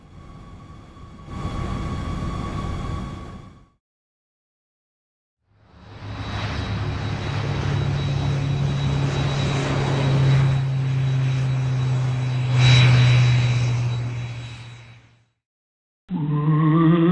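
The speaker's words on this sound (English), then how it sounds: "Jet airliner." A jet airliner roars past with a loud, steady engine rumble and high whine that swells for about ten seconds and then fades, after a shorter earlier burst of engine noise.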